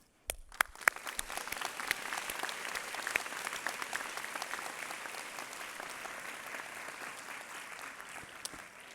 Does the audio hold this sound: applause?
yes